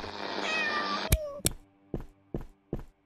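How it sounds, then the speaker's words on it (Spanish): A cat meows in the horror game Hotelnomaly: a drawn-out, strained meow over a droning ambient bed, then a few shorter, separate calls spaced evenly after it, close and fairly loud. "Uy, el sonido del gato ha sido raro"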